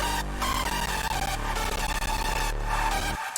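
Thick hardstyle chords soaked in fully wet reverb swell and duck in a steady pumping rhythm, the sustained wash dipping briefly at regular intervals before cutting off at the end.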